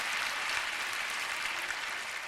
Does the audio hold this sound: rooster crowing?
no